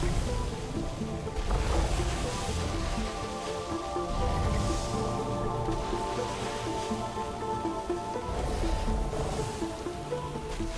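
Ocean waves in the video game Sword of the Sea wash and surge in broad, rolling swells, layered under sustained tonal game music for the whole stretch.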